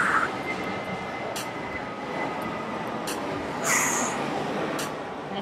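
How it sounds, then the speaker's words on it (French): Many airplanes pass overhead above an outdoor workout, heard as a steady, broad distant roar. A few brief higher sounds cut in and out over it. "Il y a vraiment, vraiment beaucoup d'avions qui passent derrière."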